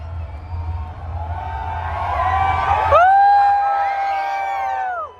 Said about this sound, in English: You can scream really loud, and if it's super loud, I know you're the loudest.